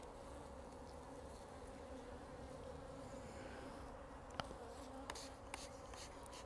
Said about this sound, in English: bees are getting a bit excited